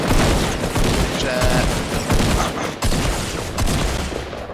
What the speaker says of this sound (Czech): Střílím.